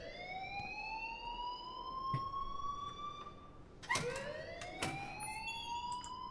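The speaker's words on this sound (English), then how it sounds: "please turn off that alarm since that's your job" Fire alarm wailing in the Life is Strange video game, a rising electronic siren tone that sweeps up twice, loud and close, with a few sharp clicks and thumps alongside and no speech.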